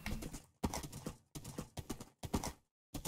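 A horse is ridden in Minecraft, its hooves giving quick rhythmic clip-clop bursts in short groups separated by brief silences, close and clear with no talking.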